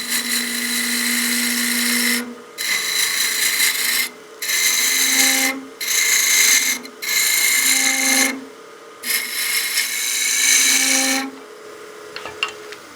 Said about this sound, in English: If you want to, you can use your skew to step this down pretty quickly.